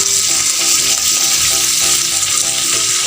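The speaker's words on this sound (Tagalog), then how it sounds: "dadagdagan po natin siya ng mantika" Oil sizzles loudly in a pan set over a wood fire at home, ready for frying kanduli fish, a dense, continuous crackle heard up close with no talk.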